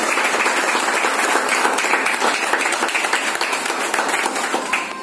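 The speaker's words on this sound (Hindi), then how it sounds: "इनका जोरदार तालियों के साथ स्वागत किया जाए।" Loud applause welcoming guests at an honour ceremony, dense clapping from a sizeable audience that holds steady for several seconds before easing off slightly at the end.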